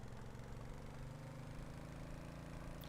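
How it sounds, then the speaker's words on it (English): A boat engine runs in the Stormworks video game, a faint, steady low hum with an even, throbbing pulse and no voices over it. "Start the engine."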